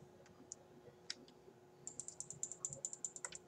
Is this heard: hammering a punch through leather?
no